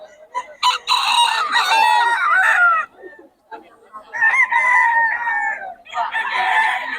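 Chickens clucking and squawking loudly nearby, with a rooster crowing in long drawn-out calls, several birds calling over one another.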